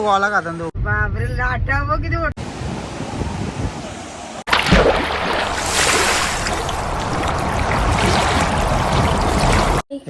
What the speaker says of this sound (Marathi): लाटा